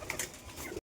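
Domestic pigeons in a home loft give a short, soft, throaty coo at close range, lasting under a second.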